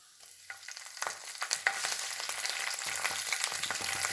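Fennel seeds and curry leaves are dropped into hot oil left from frying. The tempering starts quiet, then breaks into crackling pops that swell into a dense, close, steady sizzle with no talking.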